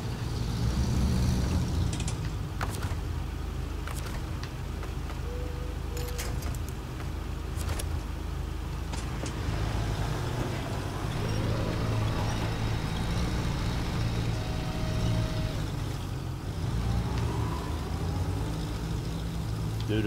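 A heavy truck labors up a steep hill in SnowRunner, its low engine drone steady and loud for the whole stretch, with mechanical creaks, clanks and ratcheting clicks scattered over the top.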